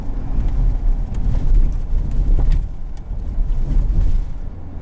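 A 2022 Ford F-350 XLT with the Powerstroke diesel pulls hard under acceleration, heard from inside the cab as a loud, steady low engine drone with road rumble and no talking.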